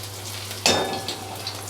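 A spoonful of garlic drops into hot oil, setting off a sudden loud sizzle that crackles and slowly fades, over a steady low hum.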